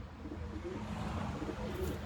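Tumbler pigeons cooing softly, low murmuring coos blending into a steady, faint background rumble, close by and without talk.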